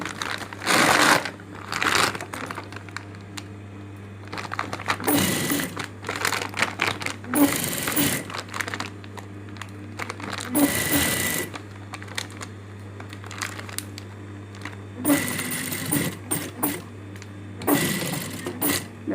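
A sewing machine stitches a bag made from a fertilizer sack in repeated bursts, each run lasting a second or two and separated by pauses, with a steady low motor hum throughout and some rustling of the stiff woven plastic.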